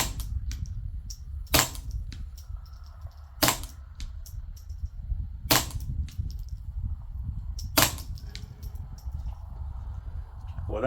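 A suppressed Ruger 10/22 Charger fires four sharp, spaced cracks about two seconds apart, moderately loud over steady low outdoor rumble.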